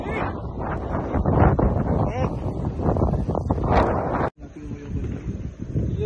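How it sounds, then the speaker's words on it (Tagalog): Strong wind buffeting the microphone during a long road bike ride near Sierra Madre, a rough continuous roar with gusty surges, a brief dropout, and voices talking over it. "Napakalakas ng hangin."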